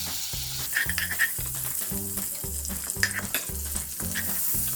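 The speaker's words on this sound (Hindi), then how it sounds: "सबसे पहले इसमें हम थोड़ा सा बटर डालेंगे और 2 चम्मच इसमें हम ऑयल डालेंगे।" Butter and oil sizzle steadily in a pan, with a repeating low clatter of stirring or tapping running through it.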